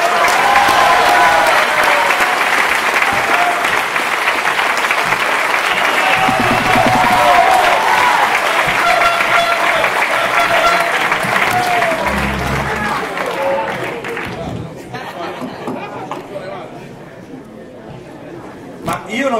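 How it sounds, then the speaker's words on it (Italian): A national assembly audience in Rome gives Fabio Toriero a big welcome, with loud sustained applause and cheers that gradually thin out and fade, ending in scattered claps and murmuring voices. "un amico che comunque ha dato molto a questo popolo e sta dando, che accoglierei con un grande applauso"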